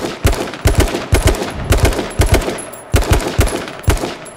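Bursts of automatic gunfire in the battle royale shooter H1Z1 King of the Kill, rapid cracking volleys repeating in quick groups throughout, loud and close with no talk over them.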